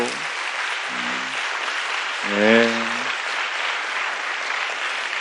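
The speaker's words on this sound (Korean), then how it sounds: "자, 오늘 우리 귀한 강의 듣게 해주신 하나님께 우리 감사한 마음으로 큰 박수." Audience at a media education lecture applauds steadily with broadband clapping throughout, while brief speech and a short spoken reply rise over it near the middle.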